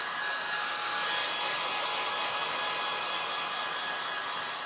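A hair dryer blows steadily on painted fabric of a canvas tote bag, a continuous close airy whir at even loudness with no talk.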